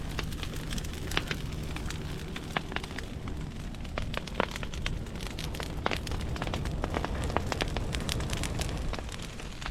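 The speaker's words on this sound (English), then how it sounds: "Start another fire on this side." Fire burning through piled grass and wood, a steady roaring rush with frequent sharp crackles and pops, close and continuous with no voices.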